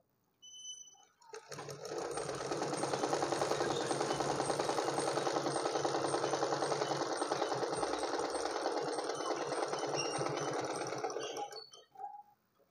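A sewing machine stitching a blouse runs in one continuous mechanical whir for about ten seconds, starting and stopping cleanly, close and fairly quiet.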